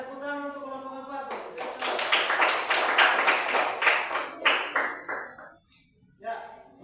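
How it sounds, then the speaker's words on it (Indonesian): A classroom of elementary school pupils claps in rhythmic, fairly close bursts of applause for a presenting group, the clapping rising, then tapering into scattered claps with children's voices mixed in. "tepuk tangan untuk kelompok 4"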